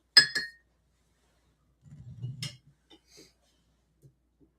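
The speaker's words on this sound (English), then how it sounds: "Addy, could you lead us in simultaneous sip, and let's get underway." Two quick bright clinks of glass at the start, followed by soft sipping and breathing sounds and a few faint small knocks, close and otherwise quiet, as glasses and mugs are raised for a simultaneous sip.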